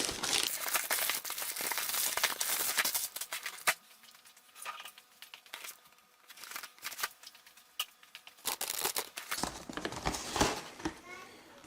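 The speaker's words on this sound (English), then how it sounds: "Just going to rip it open." A package holding an ink kit for an edible cake-topper printer is ripped open up close, giving loud tearing and crinkling of packaging in bursts, with a quieter stretch of rustling in the middle.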